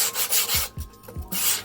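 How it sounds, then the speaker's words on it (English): Hand sanding on a shop deck, a dry rasping rub repeated in several strokes with brief pauses, close and fairly loud with no talking. "Sand it to your desire."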